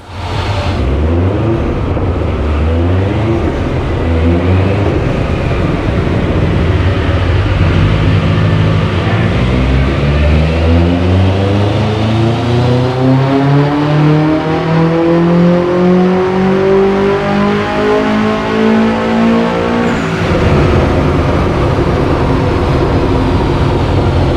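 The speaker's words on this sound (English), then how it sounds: "It was so loud, even standing at the front of the car you could feel it pound in your chest." A loud tuned Subaru WRX STI engine with antilag revs repeatedly, its pitch climbing and falling in long sweeps, then cuts back sharply near the end; close and powerful, no talking.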